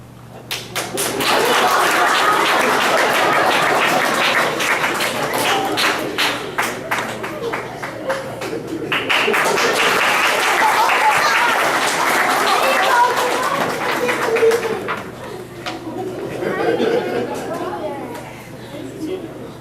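Audience applause at a dedication ceremony for young men of a graduating class, crowd clapping loudly and continuously for several seconds, swelling again mid-way before tapering off, with chatter and voices mixed underneath.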